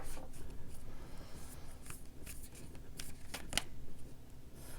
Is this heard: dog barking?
no